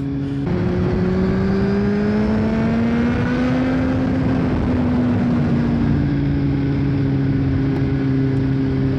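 Kawasaki Z750 motorcycle engine running with a one-tooth-smaller front sprocket, a loud, steady harmonic drone with slowly rising and settling pitch as it revs, continuous and close with no talking.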